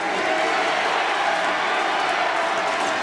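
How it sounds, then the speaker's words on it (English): A packed gym crowd at a men's college basketball tournament semifinal, Trine against Albion, keeps up a steady, dense roar with scattered cheering that swells through the whole stretch. "Crowd noise starting to ratchet up."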